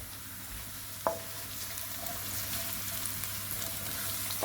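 Garlic sizzles in oil in a wok while pork is stir-fried, a quiet, steady frying hiss with one sharp clink near the start and a soft clatter at the end, no voices over it.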